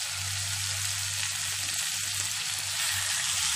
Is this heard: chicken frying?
yes